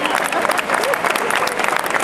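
A large crowd in a Valencia plaza applauds after a mascletà by Pirotecnia Turís, dense loud clapping with cheering that holds steady throughout.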